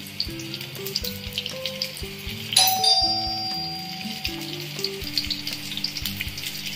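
Fish fingers fry in an oil-filled pan after the heat is turned down, giving a steady, close sizzle that runs beneath bright melodic tones for the whole stretch.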